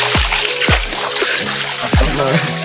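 Feet wade through cold, clear water in a rocky stream, making a few separate sloshing splashes in a slow walking rhythm. Voices talk nearby.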